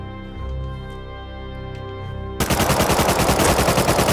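Rapid automatic AK rifle fire in the video game Rust Console, loud and close, a dense rhythmic burst that starts abruptly after a quieter stretch of game ambience.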